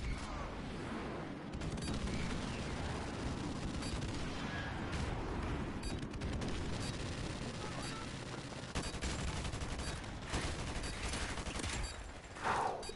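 Gunfire and explosions in the shooter game Modern Warfare Remastered: bursts of rapid shots and booming blasts scattered over a continuous rumble of battle, moderately loud, with louder hits near the end.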